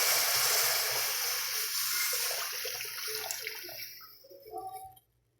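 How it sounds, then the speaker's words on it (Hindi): Two cups of water pour into a hot pan of fried spices for tadka dal, a loud rushing splash and sizzle that fills the kitchen, then tapers off and stops with a few final drips. "मसाले भूनने के बाद हम इसमें पानी डाल देंगे 2 प्याली"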